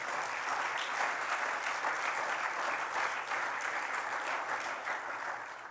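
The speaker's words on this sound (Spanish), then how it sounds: "Denle un aplauso al Rey" Church congregation applauding in praise at a worship service, a dense, steady wash of clapping that fills the space for several seconds and eases slightly toward the end.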